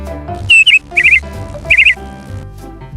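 A cartoon sparrow gives three short bursts of high, quick chirps against a soft music bed, bright and close.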